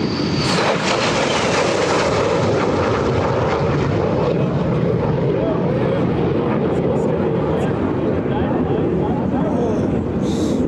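Warbird airplanes flying at EAA AirVenture 2024, a loud continuous roar of aircraft engines filling the whole stretch, broad and steady with no break, close enough to drown out other detail.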